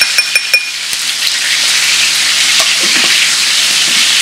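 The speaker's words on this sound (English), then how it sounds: "Now we'll mix that in with the others, with the rest of the veggies" Garlic is stirred into vegetables frying in a paella pan. A few sharp clinks of the utensil come first, then a loud, close, steady sizzle.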